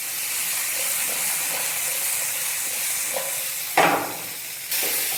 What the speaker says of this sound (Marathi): हा टोमॅटो टाकून घ्यायचं आहे. त्याला आपल्याला 1 मिनटं फक्त फ्राय करून घ्यायचं आहे मोठ्या आचेवर